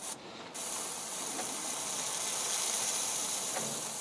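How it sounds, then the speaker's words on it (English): Compressed-air spray nozzle with holes around its tip blasting out in all directions, used for treating the chassis legs of a Mk1 Escort; a steady loud hiss runs almost continuously after a short start. "at the end of the nozzle it's actually got like holes going around it so that you get a spray pattern where it sort of just sprays out in all directions"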